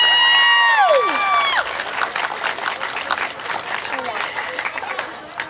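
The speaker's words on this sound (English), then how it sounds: "Let's give our new royalty a round of applause." At the Miss Osceola pageant, a crowd applauds and cheers its newly crowned royalty, with loud shrill whistles opening into sustained clapping and crowd noise that gradually fades.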